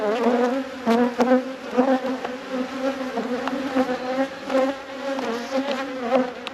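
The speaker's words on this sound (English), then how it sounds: "can you hear that high pitch buzz sound? That's what they do when they get angry" Agitated Welsh black honeybees swarm around a hive in a loud, continuous high-pitched buzz that swells and dips without letup, close to the ear, with no voices.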